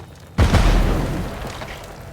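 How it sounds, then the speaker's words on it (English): Explosion in the video game GUNCHO, one sudden deep boom that hits hard and then rumbles and fades over about two seconds, alone without talk. "We can hide behind a solid wall from the explosion here"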